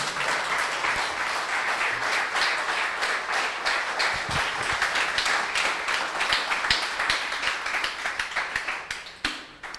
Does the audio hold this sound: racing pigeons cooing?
no